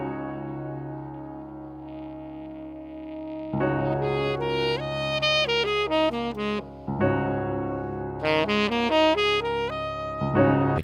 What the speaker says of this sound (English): he was playing saxophone and I was playing keyboard